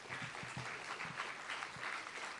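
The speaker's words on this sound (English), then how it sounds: "let's give them a round of applause" Audience applause at a Law Day civic event, a steady wash of clapping from a room of people, moderately faint and continuous for the whole stretch.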